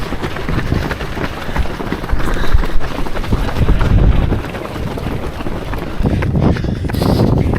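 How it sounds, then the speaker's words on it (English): Strong wind buffets the microphone outdoors during a half marathon road race, a loud continuous roar that rises and falls steadily with no voices heard. "Not sure if you can hear me, the wind's picking up."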